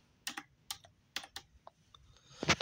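Typing on a computer keyboard, close and distinct: a few separate clacking keystrokes in uneven bursts, ending in a louder rapid cluster of keys.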